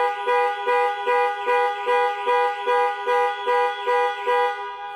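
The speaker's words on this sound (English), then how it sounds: "the horn will sound and the hazard lights will flash" A Range Rover Velar's panic alarm sounds its horn in a steady repeating pattern, about a dozen evenly spaced honks, loud and close, with no talking.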